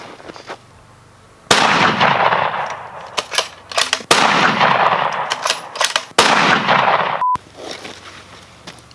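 Sharp, loud 6.5 Creedmoor rifle shots fired at an armor plate, several cracks each trailing off into ringing decay, with quieter clicks between.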